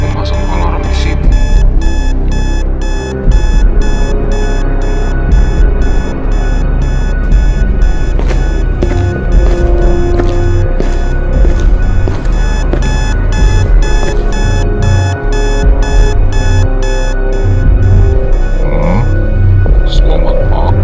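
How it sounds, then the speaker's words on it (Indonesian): An alarm clock rings in the Avakin Life video game, a loud, steady rapid beeping pulse that repeats without a break for about twenty seconds over a dense musical background. "Siapa yang memasang alarm di sini?"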